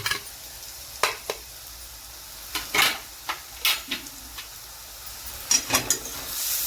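Ground spices going into frying ginger and garlic for an egg curry, a soft sizzle under repeated spatula scrapes and knocks against the pan, close and intermittent, with no talk.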